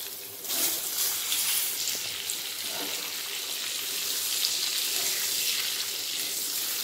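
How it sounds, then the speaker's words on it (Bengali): Eggs frying in hot oil seasoned with turmeric and salt, giving a steady hiss and sizzle that holds at an even level throughout, with no voices. "ডিমগুলো ভেজে নেব আমি"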